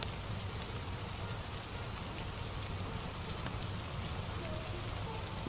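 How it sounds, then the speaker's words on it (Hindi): Steady rain falls in a dense, even hiss with no breaks, moderately quiet and unaccompanied by voices. "बाबा, बारिश अभी भी नहीं रुकी।"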